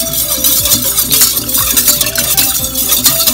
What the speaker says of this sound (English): Just whisk it.